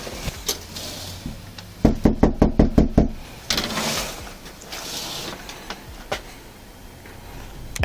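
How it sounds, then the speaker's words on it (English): Police officers rap on a house door, a quick run of about six firm knocks followed by scattered bumps and thuds nearby, with no talking. "After knocking on the door and announcing themselves multiple times"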